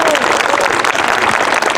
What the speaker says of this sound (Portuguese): Outra salva de palmas pelos 10 anos do assentamento Padre Jesus.